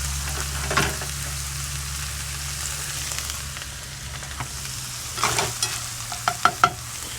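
Ground bison and onions sizzle steadily in a hot pan, with a spatula stirring and scraping through the mix in a few sharper clacks and scrapes near the end; close and fairly loud, with no talking.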